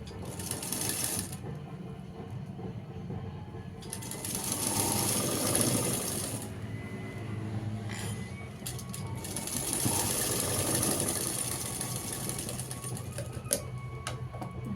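A sewing machine stitches a blouse cup, whirring in two longer runs with a rapid needle clatter and quieter gaps between them.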